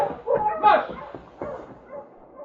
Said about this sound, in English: Line up your dog. Up, boy. Up! Mush, you Malamute!